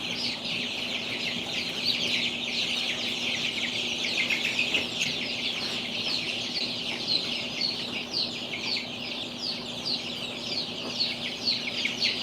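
A brooder full of baby chicks keeps up a dense, continuous chorus of high, overlapping peeps and chirps, steady and close for the whole stretch over a low mechanical hum, with no talking.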